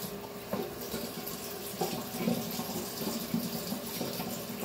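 A kitchen tap runs steadily into a sink while raw pork is washed under it, with splashes and soft knocks from handling the meat.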